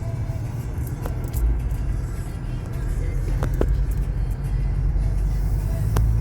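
A car climbing a road uphill in Mallorca, its engine a steady low rumble from inside the cabin that grows slightly heavier as it goes, with a few faint clicks and knocks over the drone.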